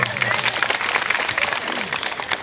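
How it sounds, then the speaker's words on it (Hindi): Brief burst of audience clapping at a village talk, moderately loud and uneven, with some voices murmuring underneath. "एक बार तालियां बजाइए"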